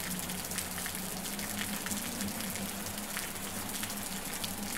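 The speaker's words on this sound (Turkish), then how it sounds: "Yağmur yağmaya başladı." Rain falls in the Osiris New Dawn video game, a constant crackling hiss of drops at an even level, heard alone without talk.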